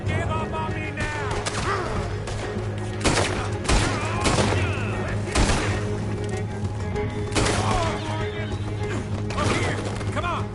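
A chaotic gunfight in the Western game Red Dead Redemption 2: dense, overlapping gunshots and booming blasts crackle continuously throughout, with shouting voices mixed under the shooting.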